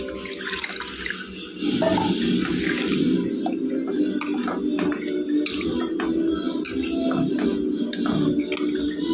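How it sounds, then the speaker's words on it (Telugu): Water is poured steadily into a pot of mutton tomato curry, a continuous splashing stream heard up close with small clinks. "కొద్ది ఉడికిందండి ఇంకొద్ది వాటర్ వేసుకోవాలండి"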